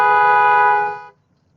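A car horn honking at a cyclist riding in the middle of the road: one loud, close, steady blast held for about a second, then cut off into near silence.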